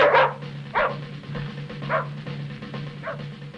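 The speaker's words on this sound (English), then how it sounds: "He stops and circles, barking." A dog barks in short, sharp bursts, about four or five times at a steady pace, close and fairly loud over a low steady hum.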